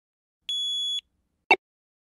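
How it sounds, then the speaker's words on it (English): A single loud, steady electronic beep lasts about half a second, followed by a short sharp click, in an otherwise silent scene where a handheld game's battery dies. "Just then, they hear a loud beep."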